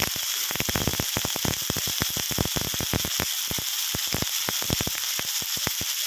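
Bean sprouts and yellow tofu stir-fried over high heat in a pan, a loud steady sizzle broken by many sharp crackling pops in quick irregular succession, with no talking.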